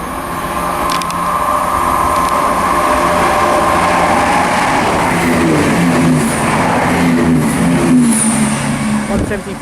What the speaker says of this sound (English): You can hear it's a turbo unit.